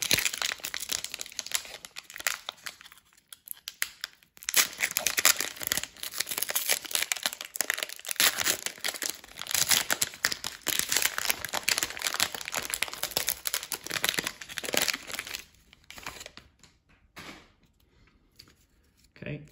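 A Panini Illusions football card pack wrapper is torn open, giving a continuous close crinkling and ripping foil sound that runs for about fifteen seconds before fading to near silence.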